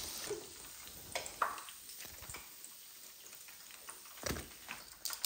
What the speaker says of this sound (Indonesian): untuk tahunya nggak usah goreng terlalu lama karena ini kan tahunya udah matang